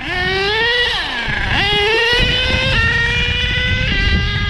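An HPI Savage XL nitro RC truck revs hard and climbs through its three-speed gearbox, the whining engine pitch rising and then dropping at each of several distinct shifts, loud and close with no talking.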